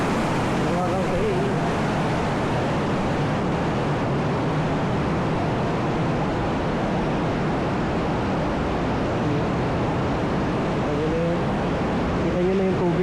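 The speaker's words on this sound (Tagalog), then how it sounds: "Kita nyo na yung tubig, umaagos." Water of the Tinipak River rushing steadily, a loud continuous broadband wash filling the whole stretch, with someone speaking briefly near the start and end.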